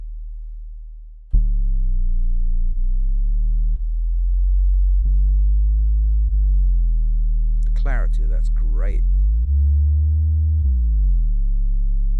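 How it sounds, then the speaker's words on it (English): A loud, saturated low sine wave synth tone from a Kontakt instrument holds steady, stepping through sustained bass notes with gritty overtones; a person speaks briefly partway through. "That's a lot of low end saturation on this sine wave."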